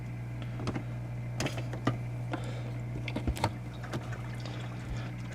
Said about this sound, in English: Time to plug in the second pump and get that one circulating.